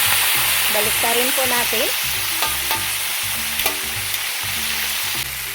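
Stuffed tilapia fries in hot oil with a loud, steady crackling sizzle and sharp pops as the fat splatters. A few scraping stirs are mixed in, and a brief spoken phrase is heard.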